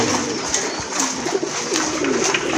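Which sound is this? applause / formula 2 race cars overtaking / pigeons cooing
pigeons cooing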